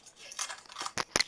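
Scissors cutting pages out of a book, a few quick crisp snips and paper rustles close by, brief and fairly quiet.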